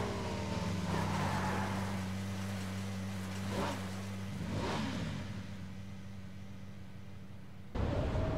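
A car racing at speed in PUBG: a steady, droning engine hum with faint surges and whooshing wind noise, held at a constant level, then a brief shift near the end.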